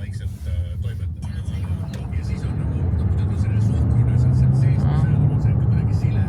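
A large car drives along a road in Saaremaa, Estonia, in winter, its steady engine and road rumble growing slightly louder, with people talking over it throughout.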